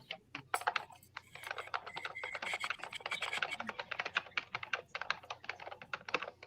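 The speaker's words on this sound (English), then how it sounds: "Listen to that keyboard." Rapid, continuous typing on a computer keyboard, with dense, uneven key clicks close up and a faint hum behind them.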